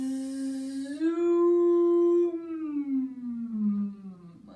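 A voice imitates a lawnmower with a long, steady droning hum that holds its pitch before sliding downward and fading out.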